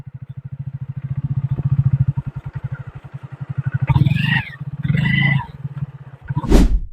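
A motorcycle engine runs with a steady, close, rhythmic thumping, rising into louder revving bursts midway and ending in a sharp roar.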